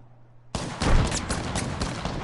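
Heavy automatic gunfire in a PS4 shooter game bursts in suddenly after a quiet moment, loud continuous volleys of shots with heavy low impacts, no talking over it.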